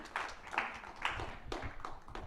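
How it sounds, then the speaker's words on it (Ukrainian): A small audience claps to welcome a poet to the microphone, with faint, scattered hand claps at a steady pace in a quiet room. "Давайте привітаємо її оплесками"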